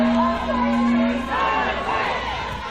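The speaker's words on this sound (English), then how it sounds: "Huge crowds marched to Kaikohe with iwi, hapu, whānau and farmers from across Te Tai Tokerau, joining in their opposition to planned land changes" A large protest march in Kaikohe, with iwi, hapū, whānau and farmers: a steady wash of crowd voices with sustained chanting or tonal calls rising over the rumble.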